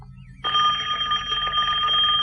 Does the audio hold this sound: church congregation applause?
no